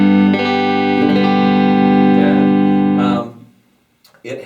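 An electric guitar on its neck-position single-coil pickup plays through a Boss Nextone Special amp with reverb, delay and boost, giving a loud, distorted chord held for about three seconds that then rings out and decays to near silence.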